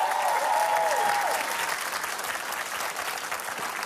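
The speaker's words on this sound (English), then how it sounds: "Keep your applause going." A studio audience applauds steadily in a TV talk show studio, a dense wash of clapping that holds loud throughout, with a brief whoop or tonal call riding on top near the start.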